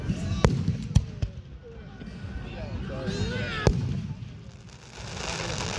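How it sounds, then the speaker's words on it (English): Fireworks at an outdoor show cracking and booming in sharp separate bangs, some distant and some louder, with whistling streaks rising between them while people talk and react nearby. "Firecrackers."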